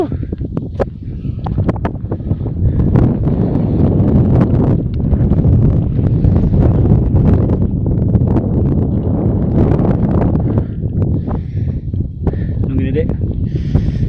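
Cold wind on a foggy Mount Gede trail, a loud steady rush of gusts buffeting close to the microphone for the whole stretch, with people talking underneath.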